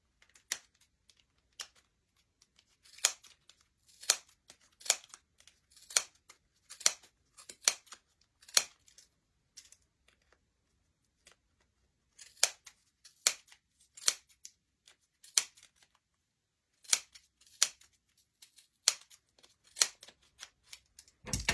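Scissors snip repeatedly through a bundle of blue yarn wrapped for a pom pom, crisp close cuts coming in quick uneven bursts with short pauses between.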